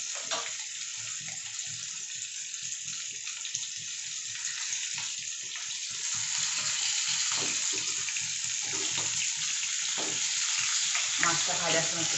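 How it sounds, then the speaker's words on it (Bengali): Rohu or catla fish fries in a pan, a steady close sizzle and spatter that thickens slightly in the second half, with no talk. "মাছটা ভাজার সময় একটু সাবধানে ভাজতে হবে"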